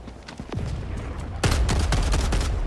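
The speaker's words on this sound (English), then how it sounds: "Oh, we got a mortar? Uh-oh. Careful of that mortar." Mortar fire and battlefield gunfire in the video game Helldivers 2, a loud steady barrage of repeated blasts and booms that grows heavier partway through, with no voices over it.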